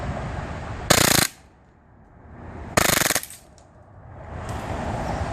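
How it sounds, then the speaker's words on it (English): Walther PPQ airsoft pistol converted to full auto, firing two short, very rapid bursts about two seconds apart, loud and close, with quiet room noise between. "Walther PPQ, full auto."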